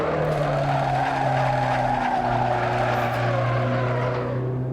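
Continuous high-pitched tire squeal from a BMW E30 at Silverstone in Assetto Corsa, loud and steady with a low engine drone underneath.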